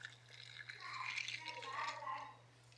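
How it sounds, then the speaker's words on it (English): Matcha is poured over milk in a glass, a soft, close liquid trickle and splash lasting a couple of seconds over a low steady hum. "the next step is to pour the matcha"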